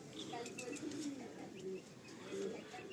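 Pigeons, white with blue beaks and blue bars, coo softly in short low murmurs at a bird sale, close by, under faint background chatter.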